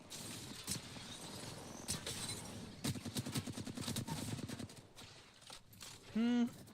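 Rapid automatic rifle fire from a Flatline in the Apex Legends video game, a dense burst of sharp repeated shots mid-clip with scattered earlier shots and a brief electronic tone at the end, with a voice talking over it.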